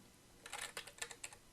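Fingers type a short burst of about a dozen quick keystrokes on a computer keyboard during a Python interactive session, crisp and close, with no talking.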